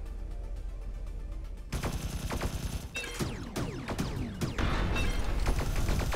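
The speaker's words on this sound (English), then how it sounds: "he is firing clusters of missiles" An enemy in the video game Sublevel Zero fires clusters of missiles, heard as bursts of rapid, crackling launches and blasts that turn louder and denser partway through, layered over a low game soundscape with no talking.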